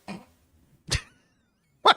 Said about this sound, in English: He just had to sneeze a little bit.